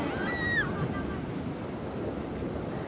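Sea surf at a sunny beach rolls in a continuous wash mixed with wind buffeting the microphone, while a short whistle-like tone briefly sounds near the start.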